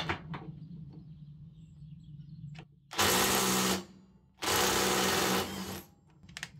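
Parkside Performance PDSSAP 20 Li cordless impact wrench loosening a bolt tightened to 300 Nm, two loud buzzing hammering bursts of about a second each, separated by a brief pause, after quieter handling clicks.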